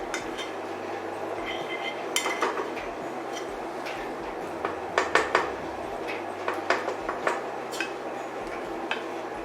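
Baked-on nuts are scraped out of a pie dish. Close utensil scrapes and clinks against the dish come in uneven bursts over a steady low background, with no talking.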